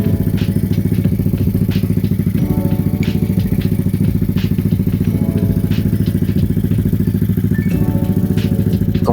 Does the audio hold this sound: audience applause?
no